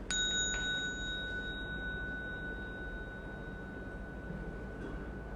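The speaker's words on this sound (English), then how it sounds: "So I will strike the bell, and then you all do one step at a time" A bell struck once during Buddhist bowing practice, a sharp strike ringing out in a long, steady, sustained tone that fades slowly over a soft room hum.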